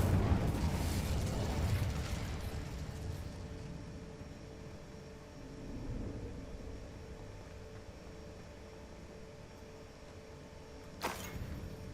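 A fire spell cast in Hogwarts Legacy bursts in loudly with a roaring, crackling blast that fades over a few seconds into a low sustained rumble, followed by a brief sharp flare near the end.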